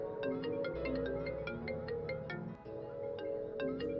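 A mobile phone ringtone plays a bright, repeating electronic melody over a sustained synth bass, moderately loud and alone, with a short pause midway before the tune continues.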